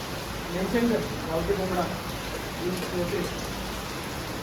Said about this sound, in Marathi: पाऊस पण मस्त हे जोरात